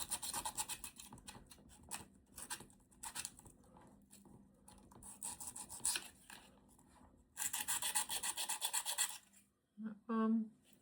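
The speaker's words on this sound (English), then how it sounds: "let's get these little burrs off" Small book nook miniature parts are filed to remove burrs, giving repeated short rasping strokes in bursts, close and fairly loud, with a brief voice near the end.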